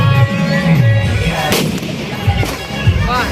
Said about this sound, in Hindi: देखिए कैसे खेसारी लाल यादव जी यहाँ पे पटाखा फोड़ रहे हैं।